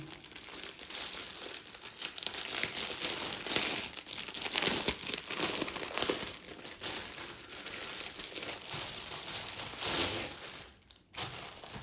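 Plastic shrink-wrap is torn and peeled off the rule books of the Drunagor board game, making a dense, continuous close crinkling and crackling that goes on for several seconds before stopping briefly.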